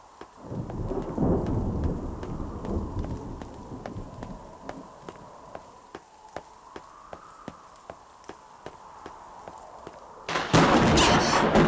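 Thunder in the video game Nier Reincarnation: a low, rumbling roll that builds and swells through the clip, then a sudden loud, close crack near the end, with a steady patter of rain-like ticks throughout.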